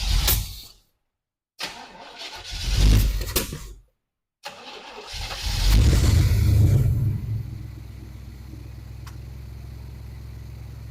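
A 1978 Camaro engine cranks with a few sputtering bursts and short silent gaps, then catches and settles into a steady, low idle.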